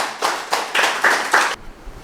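A meditation gathering's audience gives a short burst of clapping, about six firm, evenly spaced claps in quick rhythm, before it suddenly stops.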